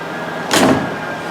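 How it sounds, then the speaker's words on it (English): A single solid thump of a 1953 Cadillac door shutting nearby, brief and full-bodied against a quiet background. "Doors closed nice."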